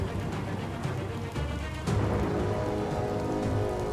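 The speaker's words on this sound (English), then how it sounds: "But it's raining." Steady rain pattering on surfaces in the Biomutant video game, a dense continuous hiss that swells slightly louder partway through, with no voices.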